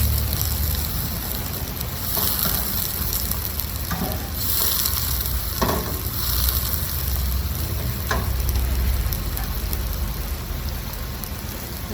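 Onions sizzle steadily in a hot pan, a continuous crackling fry with occasional clinks of a spoon stirring, close and fairly loud with no talking.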